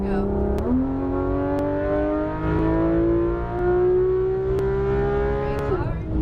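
A Porsche 911 GT3 RS of the 991 generation accelerating hard on a race track, its engine note climbing steadily through high revs with a brief dip at a shift, loud and close, while an instructor talks over it.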